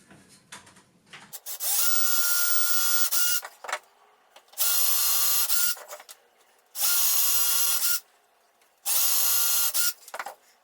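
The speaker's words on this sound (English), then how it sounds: "And then drill the holes." A power drill drilling holes in wood whirs in four loud bursts of about two seconds each, separated by short pauses with faint clicks and handling noise.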